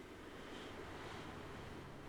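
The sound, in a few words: ocean waves in the video game Subnautica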